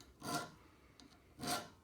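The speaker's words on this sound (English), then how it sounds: "I try and use a combination of a smaller triangle file and the chainsaw file" Two broad rasping file strokes on a knife spine, worked with a small triangle file and a chainsaw file, each stroke about a quarter second long and spaced roughly a second apart, with a faint light scrape between them.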